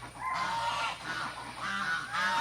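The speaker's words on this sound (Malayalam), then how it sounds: "ഇതിപ്പോൾ വൈറ്റ് ഗൂസാണ്." A white goose on a farm honks repeatedly, a series of nasal, brassy calls at close range with short gaps between them, no talking over it.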